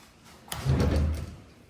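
A pot drawer in a house kitchen slides open or shut, a single soft rolling thud with a muffled low rumble lasting under a second, close by in a quiet room.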